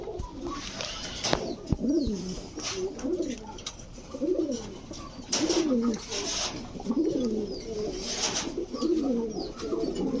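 Repeated soft coos of high-flyer Giribaz pigeons in a steady rhythm, several birds cooing close by with a few brief clicks and rustles in between.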